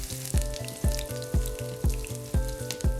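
Finely chopped onion and ginger sizzle in two tablespoons of hot oil in a pan for veg fried rice. Crackling frying runs underneath regular metallic scrapes and clinks of stirring about twice a second.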